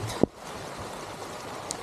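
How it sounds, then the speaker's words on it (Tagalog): Rain patters steadily on a mountain trail on Mt. Kalisungan in Calauan, Laguna, a soft continuous wash with a sharp thump near the start and a tiny click late on. "Yun lang umuulan."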